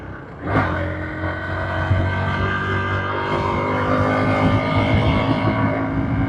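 A motorcycle engine labours in gear up a steep mountain road near the Indo-China border, a loud, close, steady drone that swells after a brief rise and holds a strained, even pitch.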